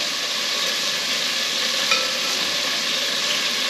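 Beef stew meat searing in a hot pan, a loud continuous hiss and sizzle that holds steady throughout, with one faint tap partway through.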